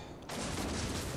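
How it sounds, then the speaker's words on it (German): Naval gunfire in the World of Warships game, aimed at an enemy cruiser: a dense, loud broadband roar of cannon fire erupts after a brief quiet moment and continues to the end. "jetzt werde ich mal hier auf die Svetlana und so schießen"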